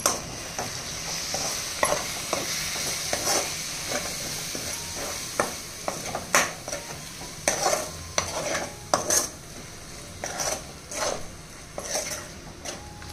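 Chicken being stirred with coriander powder and chilli powder in a pan, a continuous sizzle under repeated close spoon scrapes and clinks against the metal pot.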